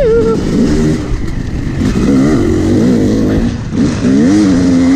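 Brand-new dirt bike, a KTM 350 or Yamaha YZ 250X, its engine revving up and down in steady rising and falling sweeps, loud and close, with no talk over it.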